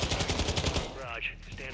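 Rapid automatic gunfire in a Call of Duty: Modern Warfare 2 campaign mission, a loud close burst lasting under a second before giving way to a ringing, muffled tail.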